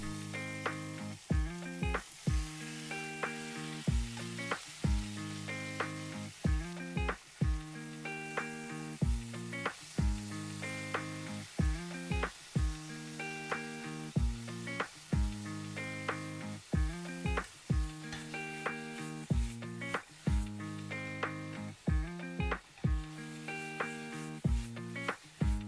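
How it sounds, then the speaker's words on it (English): Marinated chicken fries in oil in a pan over medium-high heat, giving a steady, even sizzle beneath a looping, rhythmic music track that carries through the whole stretch. "Add some oil to a pan, medium-high heat, and grab our marinated chicken and start frying"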